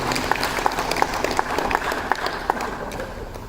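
A Diwali celebration audience gives loud applause for the school principal, a steady dense clapping with a few sharp individual claps standing out near the front.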